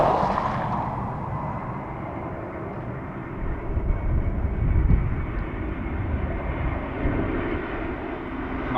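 An Aer Lingus Airbus A320 at Dublin Airport gives a steady, broad jet roar that swells gently near the middle and holds at a fairly even level throughout, with no talk.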